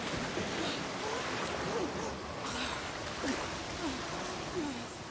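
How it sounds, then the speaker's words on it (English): Ocean surf swells and washes in the video game Senua's Saga: Hellblade II, a steady roar of water and wind with a few rising whooshes, no distinct single crash standing out. "Whoa, yep, that's a wave."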